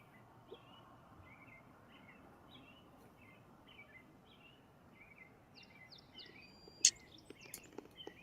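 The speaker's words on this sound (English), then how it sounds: "Birds are just singing like crazy this morning." Several birds chirp and sing in short repeated phrases over a soft steady background hum, with a burst of brighter, closer calls near the end.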